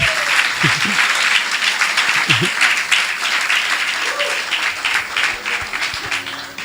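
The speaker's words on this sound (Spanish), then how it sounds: "Caballeros, los hombres, un aplauso para las madres." A church congregation applauds the mothers with sustained, dense clapping that fills the space, while a few voices rise briefly underneath.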